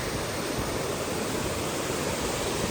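Meeyara Falls waterfall pouring steadily, a dense continuous roar of rushing water that stays loud and even throughout, with no voices.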